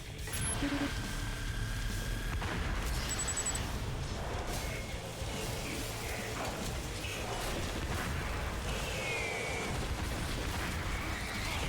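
Sustained, loud barrage of explosive missile fire and booms from goblin enemies in the action game Too Human, dense and continuous throughout with mechanical whirs and clanks layered in.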